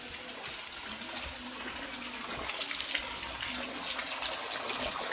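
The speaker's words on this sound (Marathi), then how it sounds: "हे पाणी येतं आहे गोमुखातून, वर्षाचे 12 महिने पाणी चालू असतो." Water flows continuously from a cow-mouth (gomukh) spout at the Keshavraj temple in Asud, Dapoli, a steady close splashing gush that grows slightly louder toward the end, with no voices.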